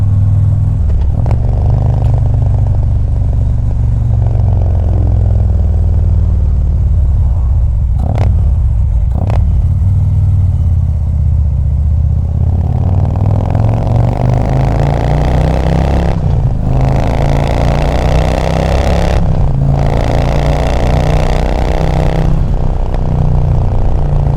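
Harley-Davidson CVO Street Glide motorcycle on the road, a loud continuous low engine rumble with wind roar, the pitch rising and falling through gear changes over a sustained ride with no talking.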